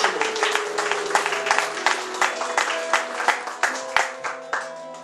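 Church congregation applauding at an archbishop's service, with rhythmic, fairly sharp claps that gradually thin out toward the end.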